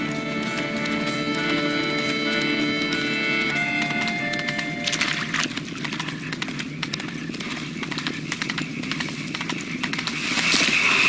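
Horse hooves clip-clopping at a steady trot from the game Witcher 3, with the horse Roach nearby, running continuously over a background of game music and ambience, growing slightly louder toward the end.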